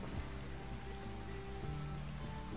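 Rain in the video game Rimworld, a continuous dense patter with scattered droplet taps, mixed with soft tonal game music.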